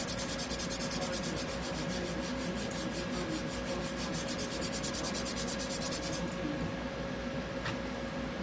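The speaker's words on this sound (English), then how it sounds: "I am going to sand her face just a little bit" A stitched doll's face is sanded with a makeup sponge, giving a close, continuous rapid rubbing rasp that runs steadily and then stops near the end, followed by a single faint tap. Nobody talks.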